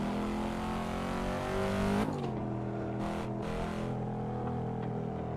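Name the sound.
Cadillac CT5V engine racing in video game Assetto Corsa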